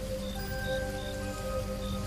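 Steady rain falling during a rainy-night stop to mend a broken cycle-rickshaw chain, a continuous soft hiss with a few faint pattering drops under steady background tones, no voices.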